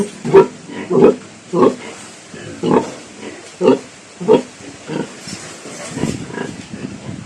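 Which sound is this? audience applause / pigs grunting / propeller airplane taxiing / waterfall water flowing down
pigs grunting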